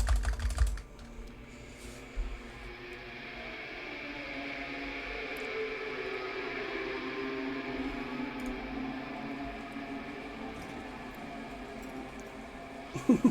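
Rapid clicking and typing on a computer keyboard, a dense steady stream of small taps running continuously at close range with no voices.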